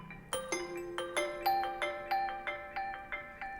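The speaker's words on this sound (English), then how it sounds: "Next, we have a Fabric plugin called Cell Phone." A synth preset named Cell Phone plays through a Fabric plugin on an Akai Force, producing a repeating series of bright, bell-like tonal chimes in a steady ringtone rhythm, clean and clear without any talking.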